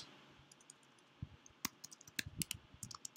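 Faint, irregular clicks of typing on a computer keyboard while setting up a Trello project board, scattered keystrokes growing busier toward the end over a quiet room hiss, with no voices.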